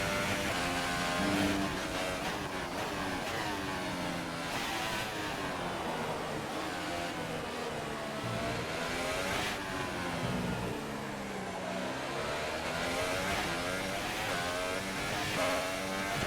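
A Formula 1 car engine in the F1 2018 game, revving as the throttle opens, rising and falling whine through gear changes, steady and prominent throughout with no one talking.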